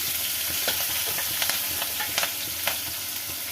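Finely chopped garlic and green chillies sizzle in hot oil in a pan, a continuous close crackle with soft scraping strokes of stirring.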